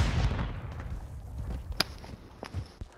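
A frag grenade goes off in a Call of Duty match, a heavy low boom at the start that rumbles and decays, followed by scattered sharp cracks and thuds.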